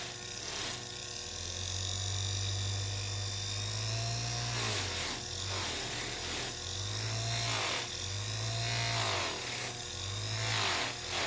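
A bench lathe polishing wheel buffs handmade jewelry wraps, its motor whine holding steady while the pitch dips and rises in repeated swells as pieces are pressed and angled against the wheel, close and loud.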